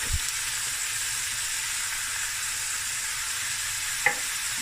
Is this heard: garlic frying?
yes